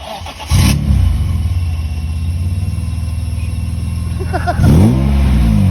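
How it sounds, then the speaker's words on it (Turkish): A BMW E46 M3 with its S54 engine idles with a loud, close, throaty rumble, then blips its revs sharply at the start and again near the end. "Bu S54 B32 E46 M3 motoru."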